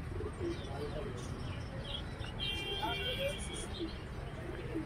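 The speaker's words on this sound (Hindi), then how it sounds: "और इधर देखिए यहाँ पर कुछ कबूतर है।" Pigeons coo softly in a bird shop amid chirping birds and a busy background murmur, several calls overlapping throughout.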